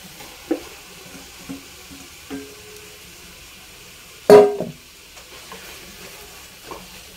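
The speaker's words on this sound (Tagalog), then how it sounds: "haluin lang natin hanggang sa maluto yung ating giniling" Ground pork frying in a pan with crushed tomato, stirred as it cooks: a steady close sizzle broken by scraping knocks of the utensil and one loud clanging scrape midway.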